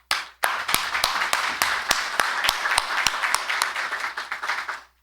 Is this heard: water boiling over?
no